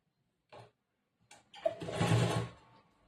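A sewing machine stitching a blouse lining: a short tap, a pause, then a brief whirring run of stitches that builds and fades, close and fairly quiet.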